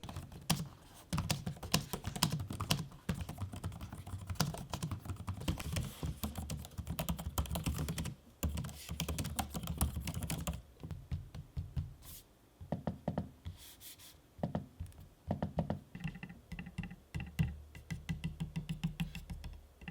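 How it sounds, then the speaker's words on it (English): Keys and trackpads on an HP Omen laptop and an Apple MacBook Pro M1 being typed on and clicked, a steady run of close, crisp taps with brief pauses and softer clicking stretches, no voices. "Here is an audio sample of me using both keyboards and trackpads, so you know what to expect."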